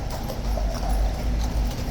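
Horse hooves clip-clop steadily on hard ground at Horse Guards on a very windy morning, close and continuous with wind noise around them.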